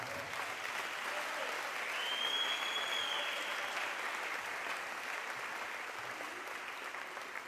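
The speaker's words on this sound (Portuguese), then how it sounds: "Vamos aplaudir a palavra de Deus." A church congregation applauds after a Scripture reading, dense steady clapping that fills the whole span at an even level, with a faint whistle-like tone briefly above it.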